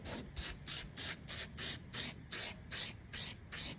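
An aerosol can sprays a protective coating onto a car headlight in nine or ten quick, even bursts, each a short hiss separated by brief gaps, close and fairly quiet.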